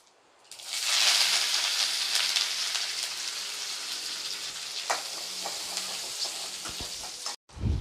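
Small shallots and curry leaves with mustard and cumin seeds drop into hot oil for a turkey berry kootu and burst into a loud, bright sizzle. It settles into a steady crackling fry with a few pops and stirring clicks.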